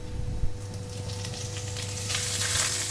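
Ginger goes into hot oil with browning garlic, producing a continuous close sizzle that swells and brightens toward the end, with a faint steady hum underneath.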